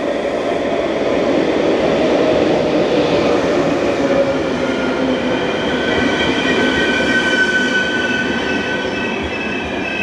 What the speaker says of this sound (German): Unser Zug erhält Einfahrt.